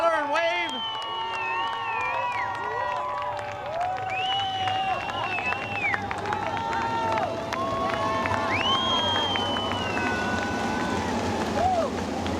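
A crowd at a sprint car race at Hartford Speedway Park, Michigan, cheering and hollering with high whoops and whistles rising over a steady roar of noise, continuous throughout.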